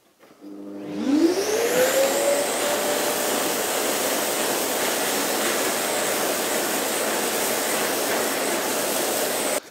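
A Festool CTM 26 mobile dust extractor fitted with a 36mm hose switches on: its motor spins up with a rising whine, then settles into a loud, steady rushing roar that lasts throughout, close by and alone.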